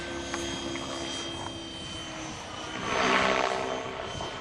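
An RC Swift helicopter with big 550 blades flies on a windy day, its rotor whirring and whining continuously at mid distance and swelling louder as it passes close, with wind noise underneath.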